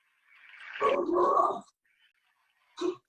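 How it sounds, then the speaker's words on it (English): Dogs barking or growling indoors, a gruff burst of several rough calls followed by a short sharp bark after a pause, with no one talking. "My dogs are going to be barking in the background."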